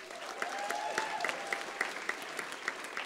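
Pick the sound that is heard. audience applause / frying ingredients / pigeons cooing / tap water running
audience applause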